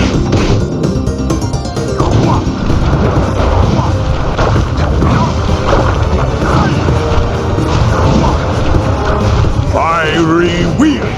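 Sly Cooper's booming chop cane attack in the game Sly Cooper and the Thievius Raccoonus lands as loud, repeated crashing booms and thwacks, mixed with dense game effects and voices.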